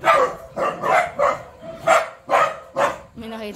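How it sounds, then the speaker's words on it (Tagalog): A dog barks in a quick run of about seven sharp, harmonic barks at an even pace, close by and fairly loud inside a family home. "May nakita silang aso."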